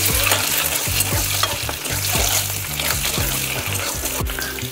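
Eggs fry in a hot pan until golden for a restaurant-style egg curry, a steady sizzle with stirring scrapes, while low tonal background sound runs underneath throughout.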